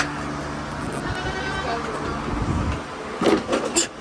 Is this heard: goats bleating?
yes